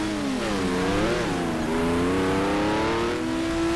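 An overheating race car engine in the GTR2 racing game howls steadily, its pitch dipping and climbing as the revs shift, loud and close with no talking.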